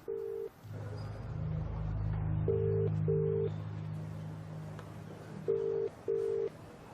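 A phone call ringing out before voicemail picks up, repeated paired electronic ring tones in a steady rhythm over a low hum, moderately quiet and with no voices.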